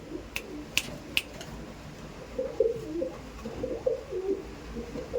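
Wings clap sharply a few times as Giribaz pigeons take off, then soft cooing continues in the background, close by with no talking.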